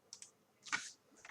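A few quiet keystrokes on a computer keyboard while editing a website, soft scattered clicks with one louder cluster in the middle, no talking.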